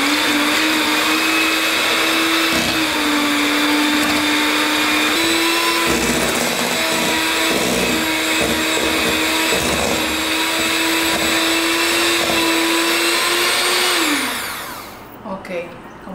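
Electric mixer whipping two cups of cold heavy cream for a lemon mousse, a steady loud motor whine running continuously for about fourteen seconds before winding down and stopping.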